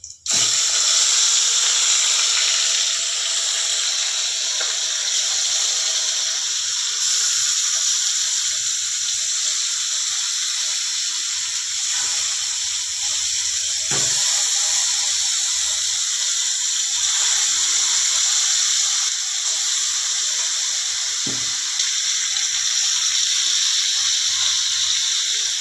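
Shol fish slides into a hot kadai of oil already crackling with cloves, cinnamon and green cardamom, giving a steady, loud sizzling hiss that runs on without pause, with a few soft clinks.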